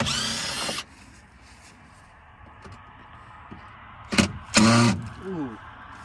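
A power tool buzzes in short bursts while a body panel comes off a Cummins-powered truck in failing daylight. There is a burst at the start, quieter clicks and handling noise in the middle, then two loud bursts near the end, with a voice heard briefly.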